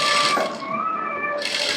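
A sewing machine runs a short burst along a blouse lining seam at a half-inch allowance, a close, steady whirring with a brief dip midway and no voices.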